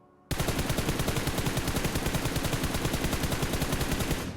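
Sustained automatic gunfire in the PUBG Mobile shooter game, a rapid, even stream of loud cracking shots that starts abruptly and continues without pause for about four seconds.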